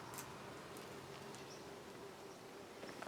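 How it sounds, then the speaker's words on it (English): Bees buzz faintly around garden flowers such as foxgloves, a soft, continuous hum with occasional louder passes close by. "If I come around here, look at the bees."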